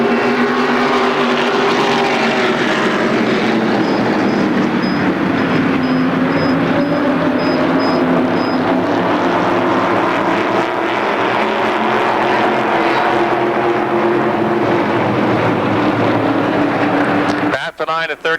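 Race cars at Motordrome Speedway roar down the front stretch of the oval in a loud, continuous engine drone that barely changes, with an announcer talking over it throughout.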